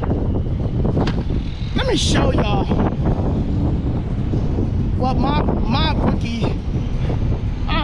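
Strong wind buffets the microphone continuously outdoors with a dense rumbling roar, while someone talks over it in bursts.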